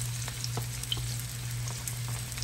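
Meatballs frying in a pan for a Sunday dinner, a steady close sizzle with faint crackles and pops under a low constant hum, no voices.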